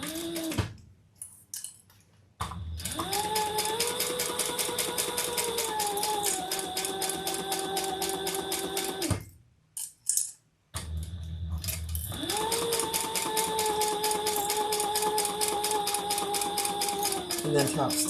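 A sewing machine top stitching a shoulder bag, running in two long steady bursts with a rising motor hum and rapid needle chatter, separated by brief pauses, loud and close.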